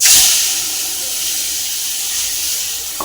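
Ground paste of poppy seeds, raw red chilli and cashews tipped into hot oil, giving a loud, close, sustained steamy sizzle that flares at the start and slowly settles, with no talk.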